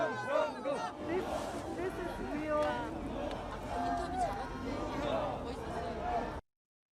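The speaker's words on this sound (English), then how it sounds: "Very animated crowd." Animated crowd of protesters in South Korea, a dense hubbub of many voices chattering and calling out at once, steady and fairly loud throughout before cutting off abruptly near the end.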